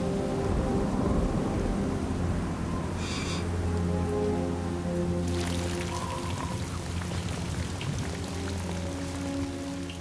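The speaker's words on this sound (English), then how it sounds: "But the rain isn't stopping" Heavy rain pours steadily onto an exposed, crumbling cliff ledge, with thunder rumbling low throughout the downpour.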